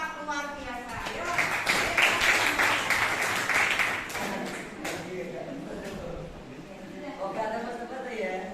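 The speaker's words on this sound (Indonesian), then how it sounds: "Kita beri aplaus untuk kelompok 4 luar biasa." A classroom group of participants gives applause for a presenting team, a sustained patter of many hands clapping that peaks early and fades while voices talk over it.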